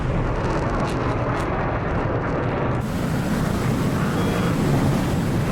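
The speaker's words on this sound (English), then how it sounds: "And flyby." A jet fighter in an air combat video game roars past, a loud broad rushing sweep that cuts off abruptly midway and gives way to steady engine rumble.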